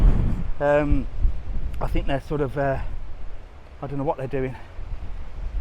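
Outdoor wind buffets a microphone on a seaside walk from Montaña Roja to Playa Blanca in Lanzarote, giving a constant low rumbling roar while someone talks over it.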